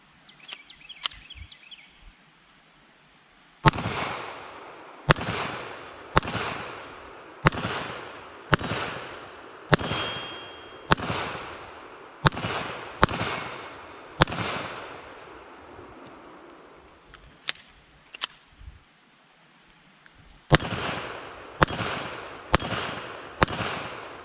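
Walther WMP .22 Magnum pistol firing at a range: a long string of sharp, loud gunshots at a steady, unhurried pace, each followed by a short ringing decay, with a brief pause partway through and no talking.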